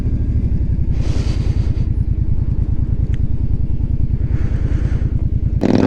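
A Kawasaki motorcycle riding on a road, its engine thumping loudly in a steady low pulsing rhythm close to the microphone, with wind rushing past at times.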